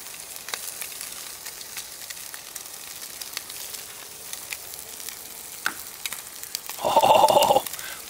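Spam sears in a camp-cooking pan with Mexican chili added, a soft continuous sizzle with faint scrapes and clicks that flares into a louder, brief burst of hissing near the end.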